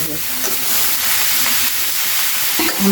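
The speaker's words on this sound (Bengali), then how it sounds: "পেঁয়াজ লঙ্কার ওপরেই ঢেলে দিলাম দিয়ে নাড়িয়ে নিচ্ছি" Onion and chilli fry in a pan with a dense, even hiss as they are stirred, broken by faint scraping knocks near the end.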